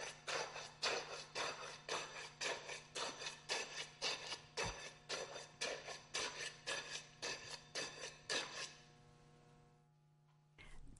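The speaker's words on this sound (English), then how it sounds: "Rod the layer 25 times." A steel rod is pushed repeatedly into a layer of fresh concrete in a metal measure for a density test, producing about two dozen rhythmic scraping, grinding strokes before it stops and goes quiet.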